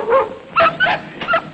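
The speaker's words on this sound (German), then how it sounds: "Ah, that darn German dog." A dog gives a few short yipping barks and whimpering bow-wows, close and loud, in four quick bursts with no talking.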